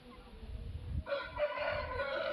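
A rooster crows on a poultry farm, one drawn-out crow rising after a second of low background rumble and carrying on to the end at a moderate distance.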